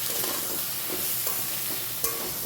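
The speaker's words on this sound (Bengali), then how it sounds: "এবার আমি পটলগুলোকে ভেজে নেব।" Pointed gourd (potol) fries in hot oil in a pan, producing a dense, even sizzle up close with a few faint stirring clicks and no speech.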